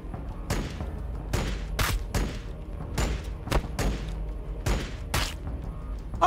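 Repeated gunfire bursts and heavy thuds from Warhammer 40k Battlesector combat, about a dozen sharp shots spaced irregularly over a low rumbling background, fairly close and punchy.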